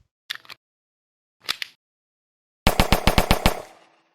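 Pistol reload effect in an Unreal Engine zombie shooter game: two short, crisp mechanical clicks about a second apart, followed by a loud rapid burst of about eight shots that trails off.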